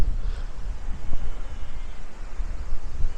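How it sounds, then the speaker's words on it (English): Strong wind gusts buffet the microphone outdoors at a hilltop churchyard, a rough low rumble that swells and dips unevenly throughout. "that is so windy up here"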